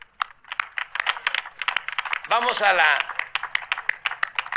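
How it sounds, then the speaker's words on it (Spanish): Applause for the scientists at an eclipse viewing in Mazatlán attended by President AMLO: quick, close clicking claps run through the whole stretch while someone speaks in the middle. "Un aplauso para las científicas."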